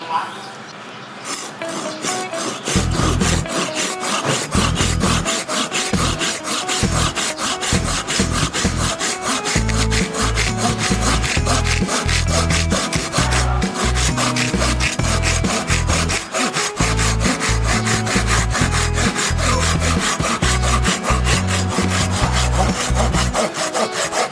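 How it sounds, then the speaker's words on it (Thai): A Silky GomBoy 240 Japanese folding saw cuts through wood in fast, steady back-and-forth strokes, a continuous rhythmic rasping that runs for the whole stretch. "อันนี้คือ เลื่อยที่ ยังมีความคมอยู่ประสิทธิภาพยังดีอยู่"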